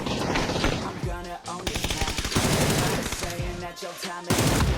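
Rapid bursts of automatic gunfire from the video game PUBG, loud and dense, firing in repeated volleys with brief gaps, mixed with game effects and occasional voice.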